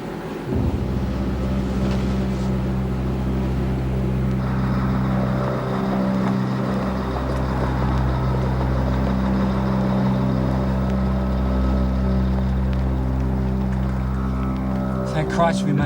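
A car engine idles steadily and close by, a low continuous hum that runs through the whole stretch, with people talking over it in places.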